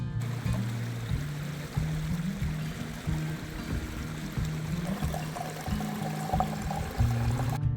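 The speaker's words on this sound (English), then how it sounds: "Next step is crossing this river" A river on Dartmoor flows steadily nearby, a continuous rushing and trickling wash of water that stays fairly even throughout, with no voices over it.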